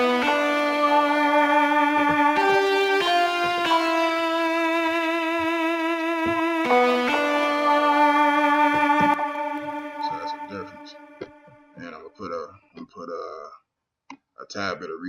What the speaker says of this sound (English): a tad bit of reverb on there.